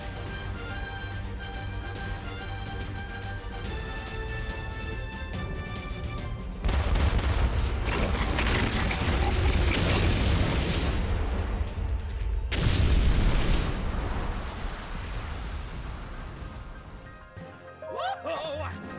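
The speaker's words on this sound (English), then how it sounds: "Fire the cannons at will." Heavy booming blasts of cannon fire erupt in two big bursts with rumbling low end, amid game music and sound effects in Hyrule Warriors: Age of Calamity.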